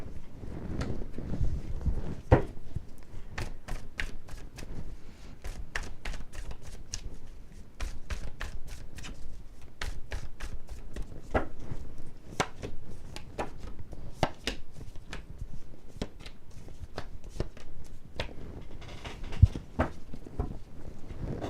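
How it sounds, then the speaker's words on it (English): Tarot cards shuffled and drawn by hand, a steady run of crisp riffling clicks and slaps for about twenty seconds, close to the microphone with no talking. "I'm going to take some cards out on Delisa."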